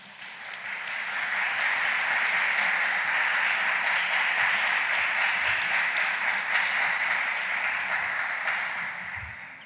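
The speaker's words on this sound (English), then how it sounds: "Please give them a warm round of applause." Audience at a school public speaking competition gives a warm, sustained round of applause, swelling in and fading out, steady and full throughout with no talking.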